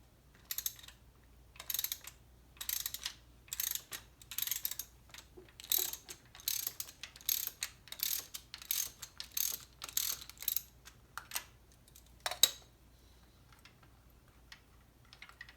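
An old Craftsman ratchet clicks in repeated short bursts, up close and fairly quiet, while the old spark plugs are removed from a Nissan Maxima during a 100,000-mile tune-up.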